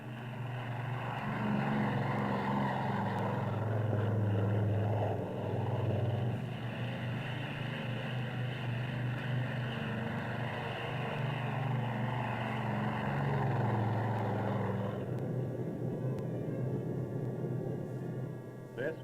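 Air Force C-54 and C-47 propeller transports drone steadily in a deep, continuous roar, loud and sustained before easing slightly near the end.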